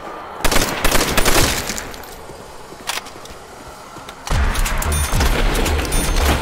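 Gunfire rattles in Call of Duty World at War Zombies, loud rapid bursts of automatic shots separated by a single crack and a quieter lull, then another long sustained volley.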